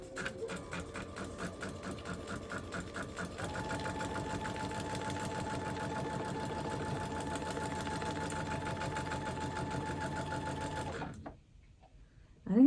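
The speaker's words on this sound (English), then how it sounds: "So now I'm going to go ahead and sew that line." A sewing machine runs steadily to stitch a seam line through a foundation paper-pieced quilt block, a fast even mechanical whir that holds for about eleven seconds, then stops abruptly, followed by a brief quiet and a short clatter.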